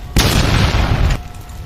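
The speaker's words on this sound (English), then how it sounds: "We've got an explosion now." A car explodes in the Car Crash Simulator video game, a single loud booming burst that roars for about a second and then cuts off sharply.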